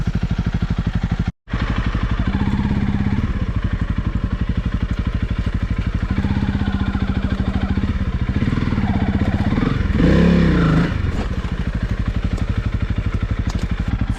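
A Honda CRF300L motorcycle with its stock exhaust runs steadily at close range with a low, muted exhaust note, revving slightly partway through, after a brief dropout near the start.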